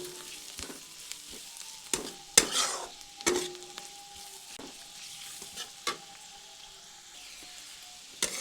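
Chowmein masala is stirred into frying onion and carrot, soft intermittent scrapes and clatters of a spatula over a quiet sizzle, close by and fairly gentle.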